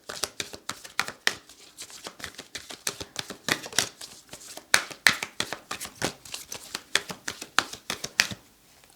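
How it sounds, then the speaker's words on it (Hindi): Tarot cards shuffled by hand in a steady run of crisp, rapid riffles and slaps, close and fairly soft, with no talking. "Let's see Gemini, will you be lucky in 2024? आपके लिए कार्ड्स को शफल करते हैं।"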